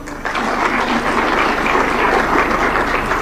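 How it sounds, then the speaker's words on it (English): Audience at a Kenyan Senate retreat in Nakuru County clapping, a steady dense patter of applause from a large room that swells in quickly and holds for a few seconds. "Can we have a better clap?"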